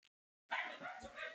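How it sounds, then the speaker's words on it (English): Dogs barking, a sudden loud burst of barks and yips starting about halfway through and continuing close by over a quiet room. "Oh, dogs."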